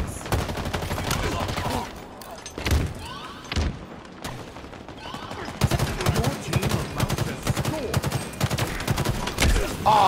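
MA-40 assault rifle gunfire in Halo Infinite multiplayer: repeated rapid bursts of automatic fire, loud and close, with short pauses between, under occasional talk.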